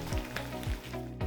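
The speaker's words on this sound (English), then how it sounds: "As soon as they're out of the oven, pour on a few tablespoons of pure maple syrup." Pure maple syrup poured over freshly baked, dark golden brown maple pecan babka hot from the oven gives a soft, continuous sizzle with faint crackling, steady and close for a brief moment, with no voices.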